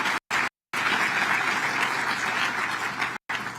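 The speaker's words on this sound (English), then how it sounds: "Let's give a round of applause for everyone who's a part." Sustained round of applause from a large crowd at a Kansas City public announcement about hosting the 2026 FIFA World Cup, a dense steady wash of clapping that is briefly cut by short dropouts.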